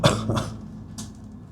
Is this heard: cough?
yes